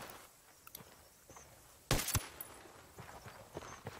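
A close, loud shot from an Mk 18 rifle in a video game, a sharp double crack in the middle of an otherwise quiet stretch with faint footsteps and small movement noises around it.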